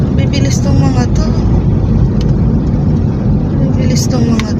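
Road traffic, cars and tricycles speeding past on a street, a steady loud roar of engines and tires close by with no pause, and voices talking in the background.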